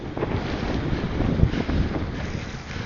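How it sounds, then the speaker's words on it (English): Strong wind buffets the microphone while riding an e-bike with a conversion kit along a canal towpath, a loud, continuous low rumble with gusty swells throughout. "Oh, there's some wind there."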